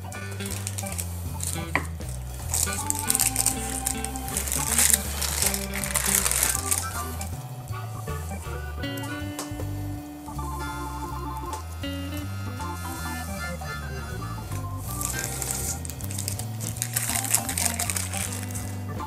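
Hot baked potatoes are cut up on a kitchen surface, giving crisp crunching and crinkling knife sounds in close, uneven bursts, with soft clatters of utensils between cuts.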